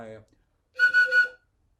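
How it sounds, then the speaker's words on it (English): A short burst of speech, then a brief pause and a high whistle sounding in three quick pulses, clear and fairly close. "This was just a whistle you were holding, huh?"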